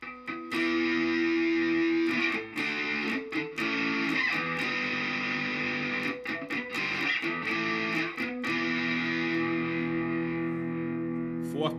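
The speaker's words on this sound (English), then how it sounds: "let's go with some distortion now on the Silver Sky" A PRS Silver Sky SE electric guitar played through distortion, with sustained, saturated chords and notes broken by short gaps and re-strikes, ringing out to a fading final chord.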